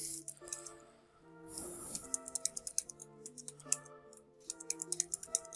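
Keys clack on a computer keyboard as a username is typed, in quick irregular bursts of close, crisp taps over a quiet background with a faint musical bed.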